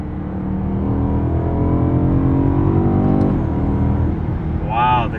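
A BMW E90 M3 in M drive mode accelerates hard, its V8 engine revving loudly with rising pitch before a quick shift, then climbing again, with a voice briefly heard near the end.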